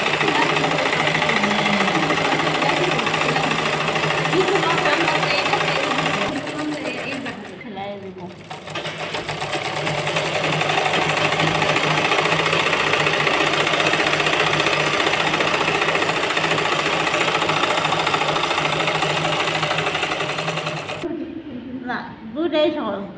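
Sewing machine stitching the body of a three-piece dress, a loud, steady mechanical whir running almost continuously with two brief pauses, while a person talks over it.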